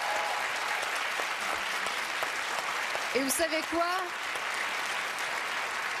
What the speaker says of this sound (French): Ça mérite une belle applaudissement